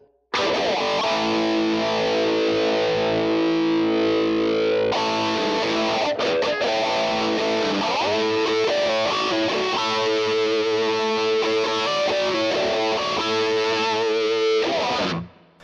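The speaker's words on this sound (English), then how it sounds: "by switching in, say, something like the phaser" A distorted electric guitar through a Line 6 Helix with a phaser effect plays sustained chords with a swirling, sweeping modulation, loud and steady throughout before stopping abruptly.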